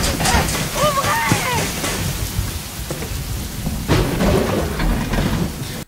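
Heavy rain pours steadily through a thunderstorm scene in the horror film Halloween II (2009), with loud rolls and cracks of thunder breaking over the dense downpour, no voices heard.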